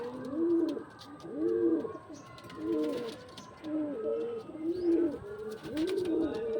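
Pigeons in a home loft, including a female bird, coo in a steady repeated rhythm, several low rolling calls close by, with faint chirps behind.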